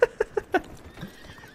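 A horse in the video game Red Dead Redemption gives several short, sharp whinny bursts in quick succession, fairly close, followed by a low snort, with no talking.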